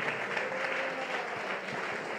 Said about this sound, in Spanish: ¿Cuánto le aplauden al Señor con todo su corazón?